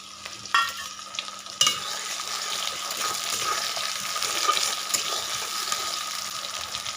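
Chopped tomato sizzling in a pan with onion for a village-style desi chicken curry, steady broadband frying hiss throughout, with a few sharp stirring scrapes and clatters near the start, close and moderately loud, no talking.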